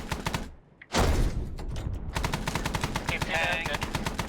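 Gunfire in the video game Arma 3, rapid machine-gun bursts with a loud blast, dense rattling fire continuing nearby as voices talk over it.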